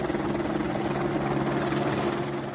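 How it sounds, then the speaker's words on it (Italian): A helicopter flying residents to the mountain village of Monteviasco, its loud, steady rotor thrum and engine drone holding constant throughout, with no voices. "i residenti hanno raggiunto il borgo con l'elicottero"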